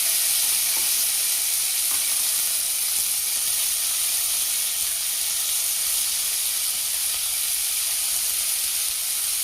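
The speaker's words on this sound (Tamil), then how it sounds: "இப்போ இது நல்லா வதங்கட்டும்." Tomatoes and bay leaf sauté for a paneer curry, giving off a steady, close sizzle and hiss of hot oil that continues evenly throughout without any talk.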